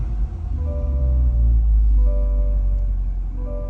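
A Corvette C8 engine firing up at ignition: a loud, close, deep rumble with a steady droning tone that holds and swells slightly, alone without talk.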